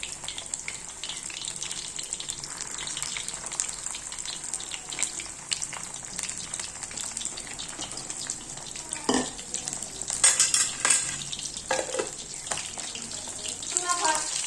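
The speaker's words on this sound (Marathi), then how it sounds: "बघा तेल चांगलं गरम झालं. आपण आता त्यात हे मासे सोडू, म्हणजे तळण्यासाठी." Steady loud sizzling of fish frying in hot oil, with occasional stirring clatter and a few brief crackles.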